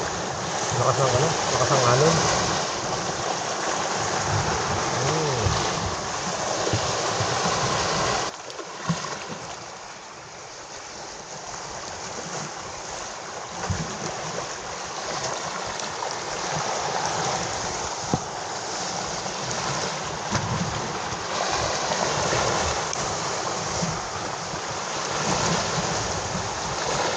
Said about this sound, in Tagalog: Lakas ng lakas ng alon.